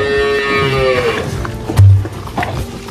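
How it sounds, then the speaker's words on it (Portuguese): Dairy cows in a corral during afternoon milking give loud, close moos, one long low call followed by a shorter, deeper bellow, with shuffling farm noise in between. "Aí agora o Maurício vai tirar o leite das vacas"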